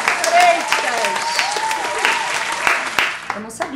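A small group claps for several seconds in a steady patter, close and fairly loud, while a few voices talk over it.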